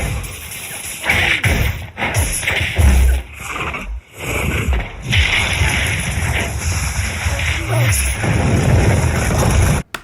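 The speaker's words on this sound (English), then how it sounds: "Making the ceiling fall on top of Baldy." Ceiling collapsing in a Harry Potter film scene, heard as a loud, dense rumble of thuds and crashing debris lasting most of the stretch, with a brief lull early on and an abrupt stop at the end.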